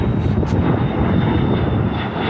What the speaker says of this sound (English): I'm not sure if it's a Cessna Citation, but I know it's a private jet.